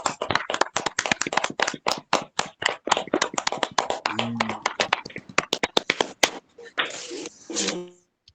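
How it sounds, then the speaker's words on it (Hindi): Audience at a daily yoga gathering claps for the yoga instructor, rapid crisp hand claps from a modest group, close and fairly loud, thinning out toward the end with a brief voice near the finish. "पूरी सदन की तरफ से जोरदार तालियां तो हो जाए योगाचार्य जी के लिए"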